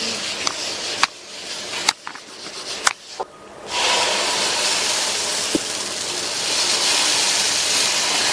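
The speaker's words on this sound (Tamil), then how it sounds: "தோசைக்கல் போட்டு சூடாயிடுச்சு. ஒரு டிராப் எண்ணெய் விட்டுட்டு நல்லா தொடச்சி விட்டுறலாம்." Oil spitting and sizzling on a hot dosa griddle: a steady, close hiss that swells after a few sharp clicks and knocks, then holds a broad crackling fizz to the end.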